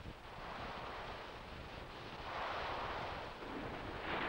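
Waves wash and break over a sandy beach face in the surf zone, a steady, close roar of surf with a swell in intensity midway, heard alone without voices.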